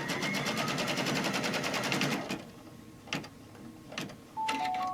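A sewing machine runs in a fast, steady burst of rapid mechanical stitching clatter for about two seconds as it sews fabric, then stops, leaving a few isolated clicks and a brief high tone.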